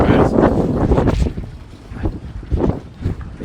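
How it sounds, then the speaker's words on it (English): Heavy wind buffeting a microphone in loud, rumbling gusts at an outdoor funfair, strongest at the start and then surging again in bursts. "He says as it gets super windy."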